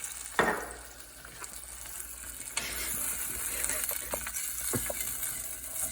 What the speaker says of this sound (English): Just gonna stir the sauce around a little bit.